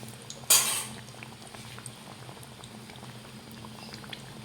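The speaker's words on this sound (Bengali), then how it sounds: "এইভাবে সব চপগুলোকে ভেজে নেব" Potato chops (aloo chop) frying in hot oil, a sharp splash and crackle as one goes in, then a steady bubbling sizzle with faint utensil clinks.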